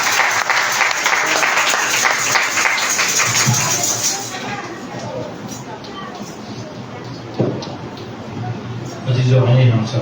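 Applause from a church audience fills the first four seconds as broad, dense clapping, then fades into a quieter room with scattered noise and voices near the end.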